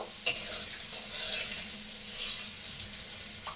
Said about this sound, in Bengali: 4টে শুকনো লঙ্কা আমি এটাকে ফাটিয়ে ফোড়ন দেব